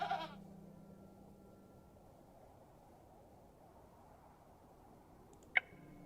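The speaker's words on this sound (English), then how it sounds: "I'm not fond of goats at the best of times, but this one seems particularly disagreeable." A goat bleats once in the video game Hob's Barrow, a short faint cry at the very start, followed by near silence and a sharp click toward the end.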